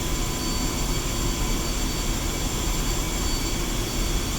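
The engines of a Black Shark helicopter in Digital Combat Simulator roar at maximum thrust on the runway, a loud, dense and unbroken turbine whine and rush that holds steady throughout with no other sounds.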